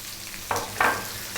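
A cup of onion tipped into hot oil for okra masala, giving two brief bursts of sizzling frying over a low steady hiss, with a faint third sputter at the end and no talking.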